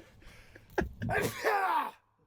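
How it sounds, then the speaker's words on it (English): A single close sneeze, a sharp intake of breath followed by a loud explosive burst that trails off into quiet. "I think I'm gonna sneeze."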